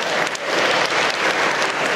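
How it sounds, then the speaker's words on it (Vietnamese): A church congregation gives a loud round of applause to a child for a correct answer during a homily, a dense, sustained burst of clapping throughout. "một tràng pháo tay to"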